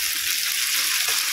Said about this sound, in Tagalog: hahalo-haloin lang natin siya hanggang sa medyo madurog lang kaunting ating kamatis